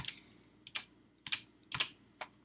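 Computer keyboard typing in a Cloud9 IDE session: short bursts of clicky keystrokes, about four quick clusters spread over a couple of seconds, fairly close and clear over a low background hum, with no voices.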